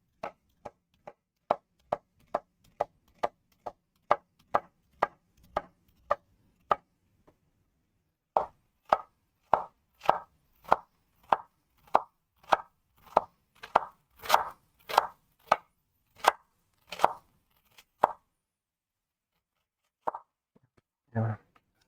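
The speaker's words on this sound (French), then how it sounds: "Alors là, je cisèle l'oignon." Knife finely mincing an onion on a cutting board for risotto, a long run of steady, evenly spaced crisp chops that pause briefly, then resume slightly faster and louder before trailing off into a few last strokes.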